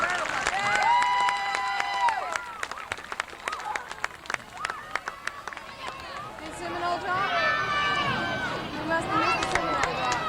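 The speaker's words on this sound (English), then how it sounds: "Let me have a big round of applause for him." Crowd at a kids' balloon race event in Tallahassee gives scattered applause and cheers for a participant, mixed with children's voices, chatter and shouts nearby.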